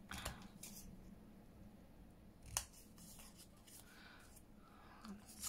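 Scissors snip through packaging in a few short, crisp cuts, close and fairly quiet, with soft handling rustle between them and faint talk nearby.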